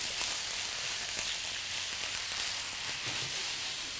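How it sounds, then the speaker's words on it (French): Maigre fish and salicornes fry in a pan, giving a quiet, steady sizzle with faint crackles and a few soft stirring knocks, heard close and alone. "Et on va rajouter les salicornes autour. Voilà, on fait revenir tout ça."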